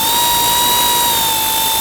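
A power tool snugs down the valve cover bolts on a 2009-2019 Ford Flex, making a loud, steady high-pitched whine with a constant tone that lasts about two seconds at close range.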